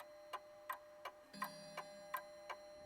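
A clock ticks steadily at about three beats per second, each tick crisp and evenly spaced, quiet and close with no voices over it.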